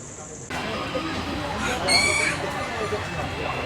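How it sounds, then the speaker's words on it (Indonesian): Ornamental chickens of several breeds at a chicken exhibition, with a rooster crowing and hens clucking amid a busy, noisy crowd background, and a voice speaking over them. "Berbagai jenis ayam hias seperti ayam etawa, ayam hutan, ayam batik, ayam kapas, ayam cemani, dan ayam polan dipamerkan"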